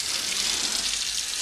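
Water flows steadily from a newly installed kitchen faucet into the sink, a close, continuous broadband rush with no talk over it.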